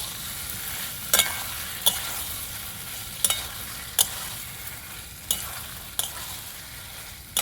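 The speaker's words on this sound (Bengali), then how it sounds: "আলু বেগুন আমি এভাবেই কষিয়ে নেব" Fried potatoes and eggplant are sautéed in a pan over a soft continuous sizzle, with sharp spatula scrapes and taps landing every second or so.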